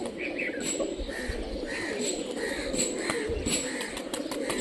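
Rajshahi local tumbler pigeons cooing in soft, repeated murmurs close by, with chirps and background noise and occasional faint human voices.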